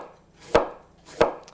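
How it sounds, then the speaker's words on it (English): A kitchen knife shreds cabbage on a cutting board, two crisp chops about two-thirds of a second apart, close and clear, with no talking. "Right, so we'll keep shredding."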